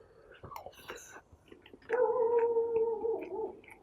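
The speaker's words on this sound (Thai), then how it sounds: "เสียงหมาเห่าเฉยเลย" A dog lets out a drawn-out, wavering howl that rises after some quieter whimpering sounds, fairly close and alone.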